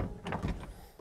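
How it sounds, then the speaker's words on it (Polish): Door handle of a Wartburg 353 car pulled open: a faint mechanical clunk and rattle of the latch releasing, followed by a softer thump as the door is freed, heard alone. "Żeby ją otworzyć, to trzeba najpierw to troszeczkę wyciągnąć i dopiero wtedy pociągnąć."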